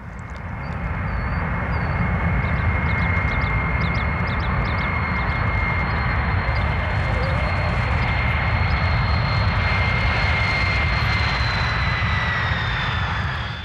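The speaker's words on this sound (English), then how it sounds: "The Space Shuttle orbiter is flown in from California on top of a Boeing 747." A Boeing 747 carrying a Space Shuttle orbiter on its back flies in from California, its jet engines a loud, sustained roar with a steady whine, and faint bird calls above it near the start.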